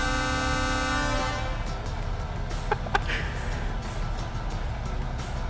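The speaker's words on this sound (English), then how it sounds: "I've also got a modded air horn." A modded truck air horn in American Truck Simulator blares loudly with sustained harmonic tones for about a second, then gives way to steady engine rumble with a couple of faint clicks.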